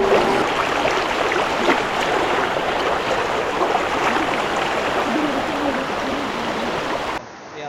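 Harinmara waterfall on a forest trail pours with a loud, steady roar of rushing water, broad and continuous and close by, until it drops off abruptly at the end.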